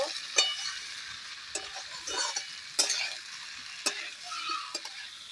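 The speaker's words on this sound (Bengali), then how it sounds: "সমস্ত সবজিগুলো মশলার মধ্যে দিয়ে খুব ভালোভাবে কষিয়ে নেব।" Mixed winter vegetables being stir-fried in spices in a pan, with a soft continuous sizzle broken by several sharp scrapes and clinks of a spatula stirring at irregular intervals.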